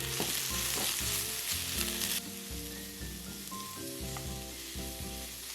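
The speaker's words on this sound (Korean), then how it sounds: "당근, 양배추 넣고 볶아주세요." Carrots and cabbage stir-fry with scallions in a pan, a loud, close sizzle for the first two seconds that then drops to a softer, steady hiss, with music playing over it.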